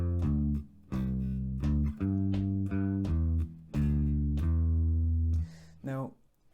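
A bass guitar plays a Rockschool Grade 3 section, a run of clear, separate low plucked notes with a steady rhythm, heard close and alone.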